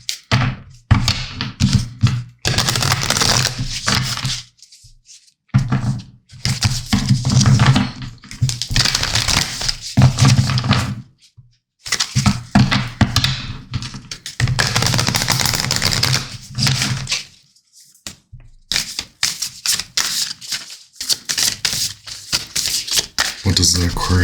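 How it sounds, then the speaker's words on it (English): A deck of oracle cards is shuffled in repeated bursts of riffling and tapping, close and fairly loud, with short pauses between rounds. "Look, I'm gonna shuffle a few times."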